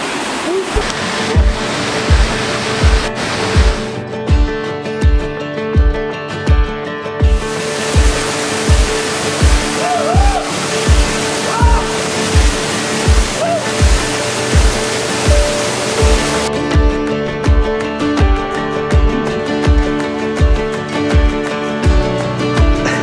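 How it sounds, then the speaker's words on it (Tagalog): Steady, loud rushing water of a waterfall in Japan fills the whole stretch, with a regular rhythmic thumping running through it and brief bursts of whistling or voices on top. "Isa talaga siyang falls."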